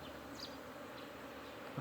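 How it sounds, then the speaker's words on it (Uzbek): A swarm of honey bees settles on a small branch, a dense continuous buzzing drone from many insects with occasional louder individual bees passing close; steady and fairly faint. "1 yo 2 kilo ari bitta joyga to'planadi hammasi"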